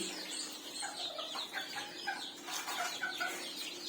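Japanese bantam chicks, black-tailed white, peep and chirp in a small brooder group, with overlapping high cheeping calls that sound soft and fairly close over a low steady hum.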